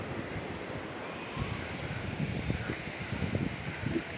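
Ocean surf rolling onto a long beach where a crowd of surfers waits for bigger waves, a steady broad wash of breaking water with wind noise over the microphone.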